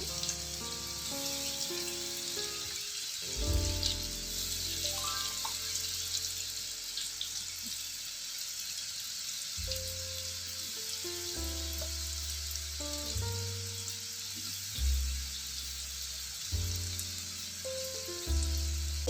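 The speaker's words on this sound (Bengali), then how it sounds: "তেলটা গরম হয়ে গিয়েছে, বেবি কর্নগুলো এর মধ্যে ছেড়ে দিলাম।" A steady hiss of baby corn sizzling in hot oil, continuous throughout, with soft tonal music playing faintly underneath.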